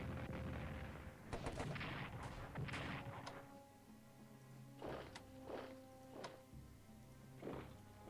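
Artillery fire in the World War I strategy game Strategic Command booms out in a rapid cluster of loud blasts, then several more spaced thuds ring out with reverberating tails, no voices present.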